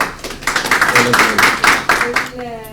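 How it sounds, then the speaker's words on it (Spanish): Audience clapping to welcome a speaker at a tax standards talk, with sharp, uneven hand claps building and then fading as a voice comes in at the end. "Démosle la bienvenida con un fuerte aplauso"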